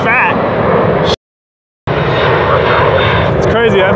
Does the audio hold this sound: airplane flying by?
yes